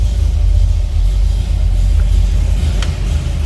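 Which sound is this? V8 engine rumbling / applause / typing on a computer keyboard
V8 engine rumbling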